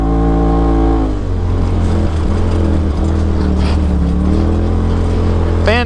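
Polaris RZR XP Turbo on Maxxis Rampage 32-inch tires driving off-road, a loud, close engine drone that shifts pitch as it climbs and eases, with a brief rise in revs at the end.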